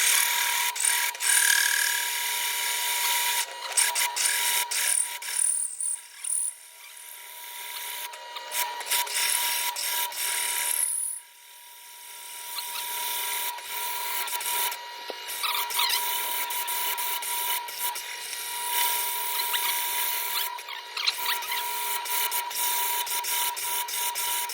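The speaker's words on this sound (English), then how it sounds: "So we're going to go ahead and hole saw out some holes." A power drill drives a hole saw through flat steel stock for a truck loading ramp, a continuous high grinding rasp close by with brief pauses and uneven bursts throughout.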